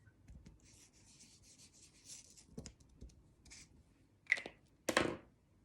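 Wax rubbed onto the back of a paper cutout in soft, faint scratchy strokes, with a few sharper scrapes and taps near the end, close and quiet without talking.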